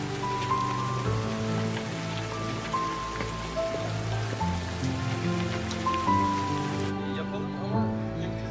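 Rain falls steadily with a constant patter, moderately loud, while tonal background music plays over it.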